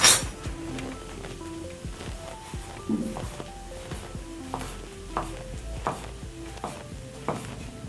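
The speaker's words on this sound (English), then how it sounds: "As my onions and garlic cook, I'm going to slice my sausages." Knife slicing sausages on a board while onions and garlic cook nearby, a steady series of light chopping taps over a soft sizzle, with some pan clinks.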